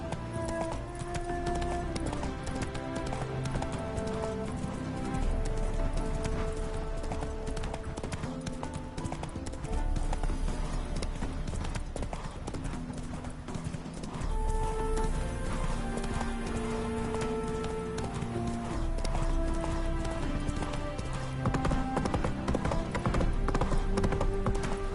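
Roach the horse galloping in The Witcher 3, rhythmic clip-clop of hoofbeats running continuously under a full musical score, steady and prominent.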